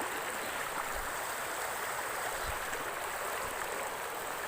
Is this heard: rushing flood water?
yes